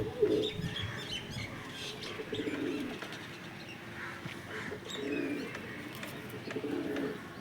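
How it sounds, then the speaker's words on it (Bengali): Loft pigeons of the ghiya patti type coo in soft, throaty rolls that rise and fall over a few seconds, close by, with faint chirps and occasional wing rustles in the background. "ঘিয়া পট্টির পায়রা"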